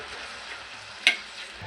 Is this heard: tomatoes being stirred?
yes